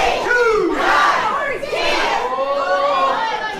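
A packed arena crowd at an MWF Saturday Night wrestling show shouts a count together, three strong chanted beats in steady rhythm, loud and close with general crowd noise around them.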